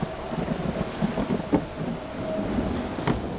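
A thunderstorm effect evokes typhoons and tempests at sea aboard a schooner. Steady rain-like hiss runs under soft rumbling, with a few faint cracks and thuds scattered through; no voices.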